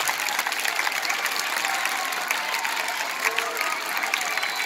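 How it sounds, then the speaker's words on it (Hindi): Schoolchildren clap loudly and steadily for their principal's birthday at a government school in Lohari Raghu, Hisar; dense continuous applause fills the room from start to finish. "जोर से तालियां बजाइए, सर को विश हो जाएगा।"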